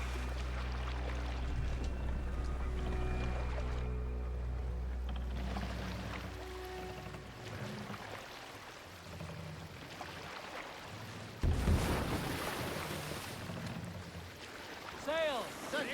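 Viking longship sailing on open waves in Assassin's Creed Valhalla, with a low rushing water-and-hull drone at first, then splashing waves and creaking that swell louder near the end, over faint background music.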